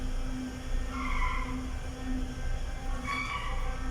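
Steady drone of a 10 horsepower three-phase motor driving an exhaust blower in a parking area, a constant low hum with a rushing airflow layer and faint shifting tones, moderately quiet and unbroken.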